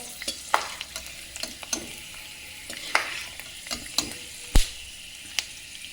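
Fried almonds are lifted out of hot ghee and into a strainer, with a continuous sizzle under scattered scraping and clinks of the utensil and one sharp knock midway; no one speaks.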